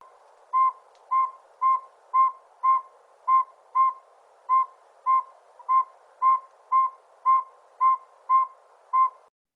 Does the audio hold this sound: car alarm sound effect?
yes